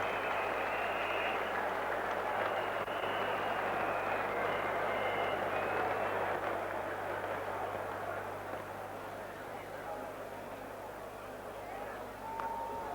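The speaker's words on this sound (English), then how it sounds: "Acknowledging the applause around the ground." A cricket crowd applauds Allan Lamb's century at the West Indies v England first Test in Jamaica in 1990, a broad, distant wash of clapping and cheering that fades gradually.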